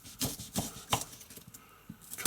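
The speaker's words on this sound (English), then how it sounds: "Chopping these into little chunks, no need to worry too much," Onions are chopped into rough chunks with a knife on a board, giving a series of crisp, irregular blade thuds at close range, quiet and without talk.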